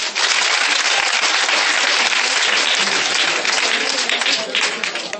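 Church congregation applauding, a loud, sustained wash of many hands clapping together, dense and steady, with some voices mixed in.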